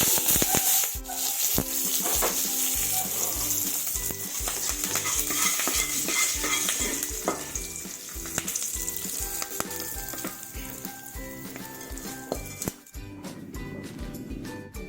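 Urad dal tempering frying and crackling in a pan while being stirred, a steady loud sizzle with repeated scraping stirs throughout, and no talking.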